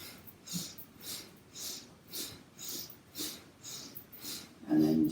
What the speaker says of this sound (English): and heavy breathing.